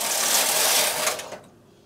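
A knitting machine carriage sweeps across a row knitting mock moss stitch, a brief, close, hissing mechanical rush that fades out near the end.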